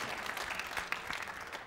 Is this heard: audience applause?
yes